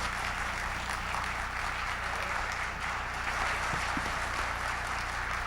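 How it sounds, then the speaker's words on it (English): A large audience at a leaders' convention claps in a dense, continuous roar of applause that stays level and loud throughout. "Give yourselves a round of applause."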